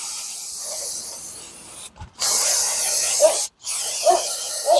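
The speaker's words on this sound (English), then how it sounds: "now we'll spray a little brake cleaner on it" Close, loud brake cleaner aerosol spraying onto a Ford Explorer rear brake assembly in long hissing bursts with brief pauses between them, no talking.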